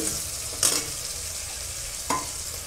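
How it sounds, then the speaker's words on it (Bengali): River prawns fry in a pan with a steady close sizzle, broken by two short scraping stirs, one near the start and one later; no voices. "মাছগুলো ভাজা হয়ে গেছে।"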